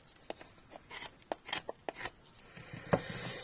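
A Yakut knife shaves pine wood in a quick run of short, dry scraping strokes, close and fairly quiet, each cut a crisp rasp with small pauses between them.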